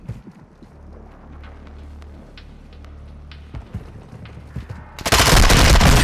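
Gunfire from a video game cracks out in scattered single shots and short bursts over a steady low rumble, ending in a sudden, loud sustained blast of noise.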